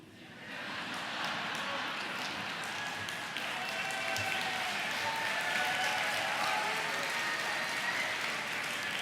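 Steady, even audience applause fills a plenary session hall, a sustained wash of many hands clapping at moderate volume from start to finish with no voices standing out.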